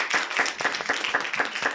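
Audience applause for student presenters at a student expo, a brief burst of many hands clapping briskly with an even, rapid rhythm, close and fairly loud, with no talking.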